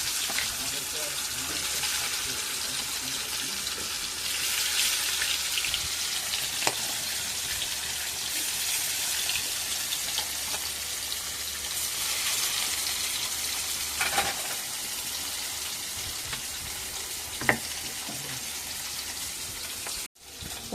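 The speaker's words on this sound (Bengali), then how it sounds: "কড়াই তেল গরম হয়ে গেছে, মাছগুলো এবার ভেজে নেব" Snakehead fish fry in hot oil in a wok, giving a steady, crackling sizzle throughout with occasional sharper pops and light stirring clinks.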